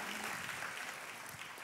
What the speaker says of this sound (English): I got one clap, got two clap.